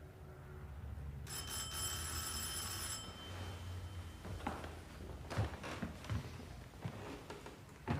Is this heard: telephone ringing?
yes